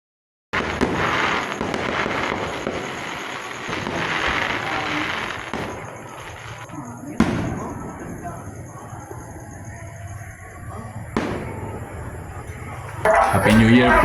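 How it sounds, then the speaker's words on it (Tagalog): New Year fireworks and firecrackers going off outside, a dense continuous crackle and popping with sharper bangs, loud and fairly close, with distant crowd noise and voices mixed in. "Simula na po ng putukan"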